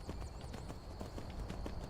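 Horse hooves clip-clop in a steady, repeating trot in the Skyrim video game, each hoof fall sharp and close against a constant game ambience.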